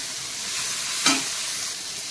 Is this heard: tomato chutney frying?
yes